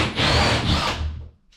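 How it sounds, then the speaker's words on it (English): Power drill cutting holes for downlights in a new-build ceiling, a single short close burst of whirring and grinding through board that fades out after about a second. "So we're just drilling out these downlights."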